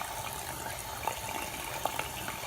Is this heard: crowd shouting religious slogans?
no